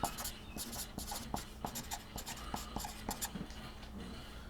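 A pen scratches out numbers on paper in short, quiet strokes and taps, heard up close with faint background noise.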